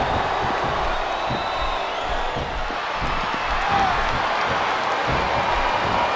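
A large crowd in a wrestling video game, WWE SmackDown vs Raw 2007, roars and cheers continuously, a dense wash of noise with scattered whoops and claps, steady throughout.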